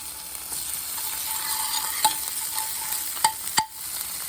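Dried garden parsley is added to a stuffing mixture in a frying pan, over a steady low sizzle with a few sharp utensil clicks and scrapes near the end.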